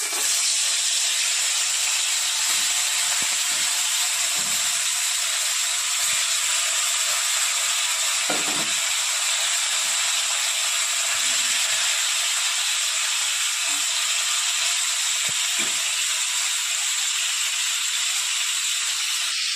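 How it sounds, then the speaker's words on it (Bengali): Tilapia fish pieces fry in hot oil, a continuous loud bright hiss held close for a long stretch, with faint scattered clinks and knocks underneath and no talk. "তেল গরম হয়ে গেছে, আমি এক এক করে মাছগুলো ছেড়ে দেবো।"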